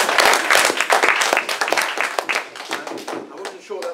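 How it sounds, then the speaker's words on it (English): An audience at the Race Equality Centre's annual general meeting breaks into dense, close applause that thins out and fades after a few seconds, with a voice starting as it dies away. "I wasn't sure that would get a clap, but it did."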